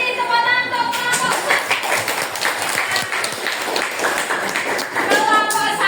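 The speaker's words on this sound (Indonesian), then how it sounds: "Terima kasih tepuk tangan untuk kelompok" A classroom group applauds group 1 with lively, uneven clapping from many hands at close range, with voices talking over the claps.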